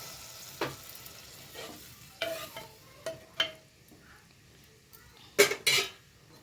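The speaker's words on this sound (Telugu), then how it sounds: "ఈ పులుసు వేసుకోవాలి." Tamarind juice is poured into okra curry sizzling in a pan, followed by stirring, giving a few scattered scrapes and clinks with a louder splash-like sizzle burst near the end, fairly quiet overall.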